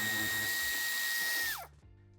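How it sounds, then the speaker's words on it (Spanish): A power tool whirs steadily at close range while backing a screw out of the plastic bumper of a 2023 BMW X5, then winds down sharply and stops, leaving faint handling noises. "Y quitamos el tornillo."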